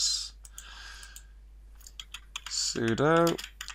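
Quick clicks of typing on a computer keyboard as a command is entered on Ubuntu Server 18.04, close and fairly quiet, with a short burst of a voice near the end.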